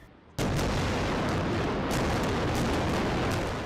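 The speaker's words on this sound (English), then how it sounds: "Hundreds of Israeli airstrikes rattle the Gaza Strip" Israeli airstrikes in the Gaza Strip make a sudden massive blast that sets off a sustained, loud, rumbling roar which carries on without a break.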